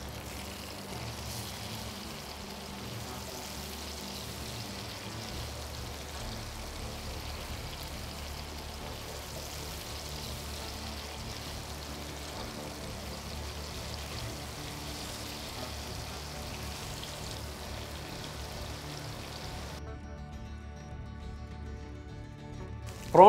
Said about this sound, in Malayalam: പ്രോൺസ് നല്ല ഫ്രൈ ആയിട്ടുണ്ട്